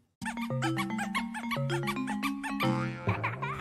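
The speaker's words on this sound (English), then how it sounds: "A squeaky dog sound." A squeaky dog sound effect from a Nintendo video game, a rapid run of bright, rhythmic electronic squeaks in a rising and falling melody, played alone and fairly loud for a few seconds.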